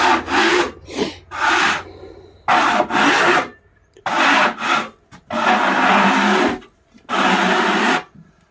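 Portable sawmill cutting through a hard maple board: repeated loud, rasping passes of the blade through wood, each a second or so long with short gaps, up close and with no talking.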